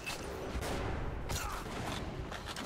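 Heavy gunfire and explosive blasts from the shooter game Metro: Last Light Redux form a dense, continuous barrage, loud and close, with sharper bursts cutting through near the start and middle.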